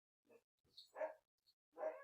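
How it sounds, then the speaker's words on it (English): A dog barks three or four times, short sharp yaps heard faintly from a distance against near silence. "my dog started barking"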